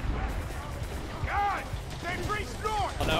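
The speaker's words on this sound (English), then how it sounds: "Oh no, we got mortars." Mortar fire in the Crime Boss game: heavy booming impacts and rumbling explosions land over a dense low-frequency battle din, with a few whistling, warbling tones between the blasts.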